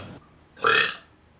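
A single loud, close burp rises abruptly after a brief faint sound and quiet pause, then cuts off cleanly into silence.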